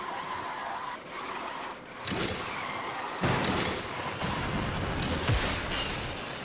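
In the racing game Asphalt Legends Unite, a car's nitro boost fires at the race start with bursts of rushing, hissing whoosh over a steady engine and tire noise, arriving in several surges of rising loudness; no talking.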